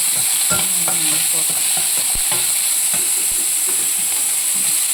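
Onions frying in hot oil, sizzling loudly and close, while a spoon scrapes and stirs through the pan in uneven knocks, with no voices.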